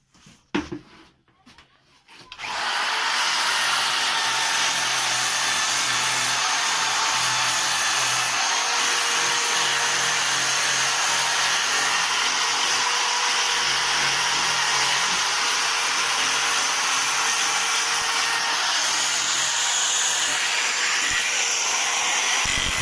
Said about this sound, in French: Maintenant, un petit coup à la ponceuse.